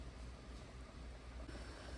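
Water boiling in a pot on the stove before fries go in, a steady low rolling bubble and hiss that stays even and fairly quiet throughout.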